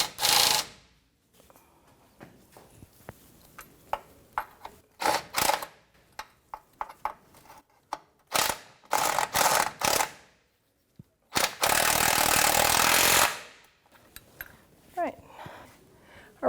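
A torque wrench tightens the rack and pinion mount bolts on a 1992-1996 Toyota Camry using a 19mm socket. Short metallic clicks and ratcheting come in scattered bursts, with a longer loud rasp near the end and some speech between.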